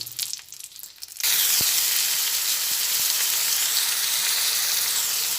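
Whole garam masala of cardamom, cinnamon and cloves, plus a bay leaf, drops into hot ghee in a wok and erupts into a loud, steady sizzle that runs unbroken to the end after a brief quieter lead-in.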